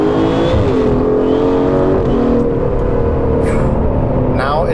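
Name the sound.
Aston Martin DBS Superleggera V12 engine revving in Sport Plus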